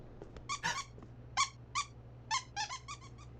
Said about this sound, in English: Calm down, squeaky chicken.